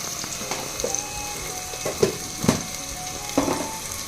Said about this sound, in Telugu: అల్లం వెల్లుల్లి పేస్ట్ పచ్చివాసన పోయేంత వరకు వేగనివ్వాలండి